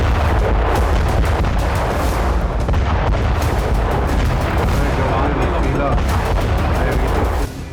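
Hezbollah rocket strikes on the Golan Heights come as a dense, continuous roar of heavy booms and blasts, loud and sustained for several seconds before easing slightly at the end.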